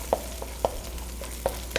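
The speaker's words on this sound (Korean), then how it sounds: "양념장을 후라이팬에 한번 볶아주시면요" Seasoning sauce stir-fried in a frying pan as the base for a seafood nurungji soup, a soft continuous sizzle broken by a few rhythmic scraping taps of a utensil.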